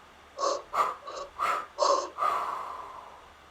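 A person doing a breathing exercise lets out several sharp, forceful breaths through the nose and mouth in quick succession, ending in one longer exhale, close and clear with no talking.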